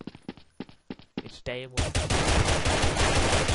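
Automatic gunfire in Counter-Strike: Source, a rapid sustained burst of shots that bursts in after a few seconds of casual talk, loud and dense until the end.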